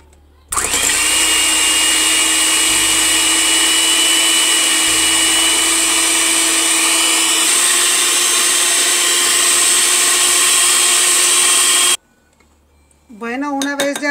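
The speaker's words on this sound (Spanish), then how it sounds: "Yo voy a utilizar lo que es la batidora" A steady electric hand mixer beating egg whites whirs loudly for about eleven seconds, then cuts off, followed by a brief voice.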